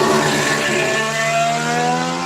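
A McLaren race car heads out onto the track, its engine note climbing and revving loudly as it accelerates, steady and close throughout.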